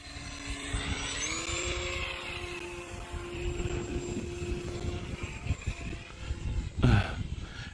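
A small electric RC Fun Cub model airplane whines overhead on a crosswind pass in strong wind, its propeller pitch sliding up and then holding steady, with a rough wind gust buffeting the microphone near the end.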